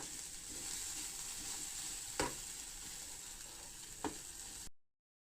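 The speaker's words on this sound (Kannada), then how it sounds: "ಅದಕ್ಕೆ ಈ ರೀತಿ 1-2 ನಿಮಿಷ ನೀವು ಇದನ್ನು ಎಣ್ಣೆಯೊಳಗನ ಕರ್ದಂಗೆ ಮಾಡಬೇಕು." Vegetables frying in oil for chapati noodles give a steady, soft hiss of sizzling throughout, broken by two sharp clicks from the pan.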